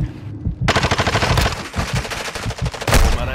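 Sustained automatic machine gun fire in Call of Duty Modern Warfare 2, a dense rapid rattle of loud close shots running nearly the whole time with brief pauses.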